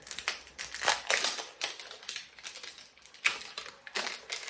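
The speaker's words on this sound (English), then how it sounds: "Let me open up a new thing of pepper so I can add more when I go in for a taste." A new glass bottle of pepper is opened with a run of crisp cracking, clicking and crinkling bursts, close and fairly loud, with no talking.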